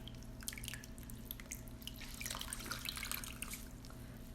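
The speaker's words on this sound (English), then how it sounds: "I'm gonna give it a good squeeze because I don't really want any excess water at this point." Water drips steadily from a wet rag being wrung out while transferring a photo onto wood. The drips are faint and scattered over a quiet background, with no talking.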